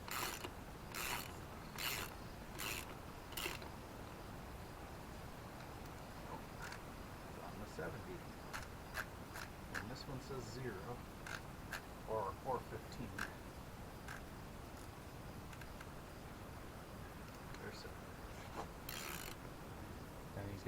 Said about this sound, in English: First he has to set the torque wrench to about 70 foot-pounds for the first pass.